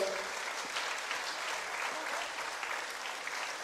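Steady applause from an audience for a band at a live chart show, dense and even throughout, heard at moderate level with no break.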